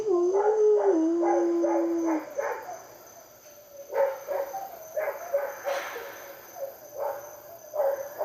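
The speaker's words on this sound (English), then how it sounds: "Do you hear the dog howling?" A dog howls in two long wavering cries over the first couple of seconds, followed by more drawn-out howls later amid outdoor noise, with distant sirens also in the air.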